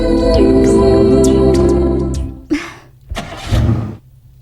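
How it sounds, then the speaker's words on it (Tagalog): An engine cranks and sputters loudly, then cuts out, followed by a couple of short bursts of cranking that fail to catch. "Di na mo andar ang makina."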